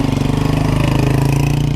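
A motorcycle engine idles loudly and close by with a steady, fast, even pulsing throb, continuous and unbroken.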